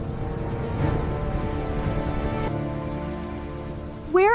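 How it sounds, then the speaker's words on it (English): Heavy rain during a storm pouring down steadily and loudly throughout, a dense constant patter with no voices, and a brief rising tone at the very end. "Where is Ben going in this heavy rain?"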